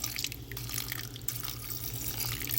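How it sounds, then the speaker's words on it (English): Water pours over soybeans in a crock pot for homemade soy sauce (tamari), a close, steady splashing trickle with small drips, heard alone without speech. "I will continue to add water"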